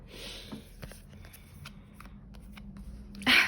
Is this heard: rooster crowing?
no